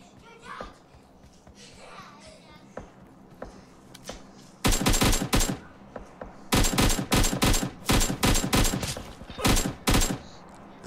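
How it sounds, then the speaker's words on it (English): Bursts of automatic gunfire in the video game PUBG Mobile, loud rapid volleys starting midway and repeating in several clusters, with players talking faintly underneath during the quieter opening. "Hey, he's shooting me"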